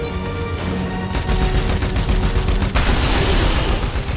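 Rapid gunfire from the video game Dead Rising 4, a dense run of repeated shots that fills the whole stretch at a loud, steady level, with a denser burst near the end.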